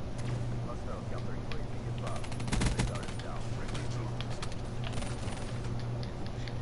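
Pistols fire in the Black Ops 3 video game: sharp shots crackle in a tight burst near the middle, over a constant game soundscape hum while a person talks.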